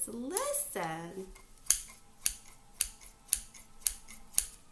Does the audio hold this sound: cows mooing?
no